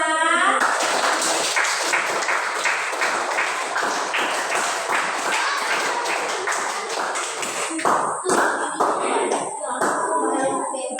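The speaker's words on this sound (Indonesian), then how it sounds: "Nah, sekarang berikan tepuk tangan kepada kelompok 2." Classroom group applauding a presenting group at an Indonesian teachers' coaching session, steady close handclapping for about ten seconds, with a few voices and sharp claps as it thins near the end.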